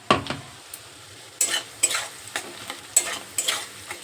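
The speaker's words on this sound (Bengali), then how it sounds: "আর এখানে আমি কালো জিরে ফোড়ন দিয়েছি, আর পেঁয়াজ, কুচনো পেঁয়াজ দিয়ে লালচে লালচে করা হয়ে গেলে" Finely chopped onions fry with nigella seeds in hot oil until reddish, a soft background sizzle broken by several sharp stirring scrapes in an uneven rhythm, close and without talk.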